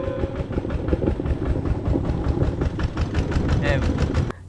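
A small motorized cart engine chugs loudly and rhythmically, a steady close-up putter running throughout before cutting off abruptly at the end.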